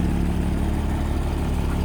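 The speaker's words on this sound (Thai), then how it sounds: "ลองรถไถก่อนครับสองคัน L50" Kubota L50 tractor engine runs steadily at low idle, a close, loud, even diesel rumble with a regular throb and no voices.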